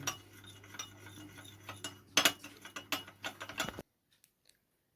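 A spoon stirs tomato sauce, chili sauce and dark soy sauce together in a bowl, giving close, irregular clinks and scrapes of metal on the dish for several seconds before stopping abruptly into near silence.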